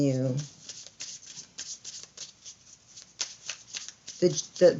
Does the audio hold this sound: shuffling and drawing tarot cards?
yes